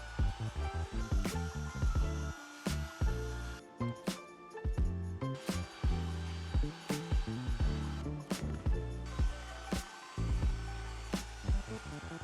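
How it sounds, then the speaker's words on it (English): A 50 grit belt sander runs continuously over wood shelves, with a loud, rough grinding whine that dips and surges as the tool is pressed and lifted. "Then I'm going in and sanding everything down with a 50 grit belt sander."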